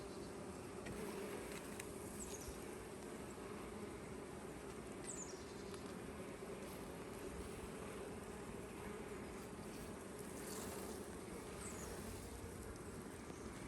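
Honeybees swarm around an opened hive during an inspection shortly after a swarm, their buzzing a steady, dense drone that fills the whole stretch without pause, with no voices over it.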